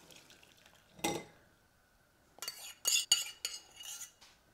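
Steeped ancho chilies are strained out of their soaking liquid: a sharp metal clink, a pause, then a cluster of clattering utensil knocks and splashy pouring, all close and quiet with no talking.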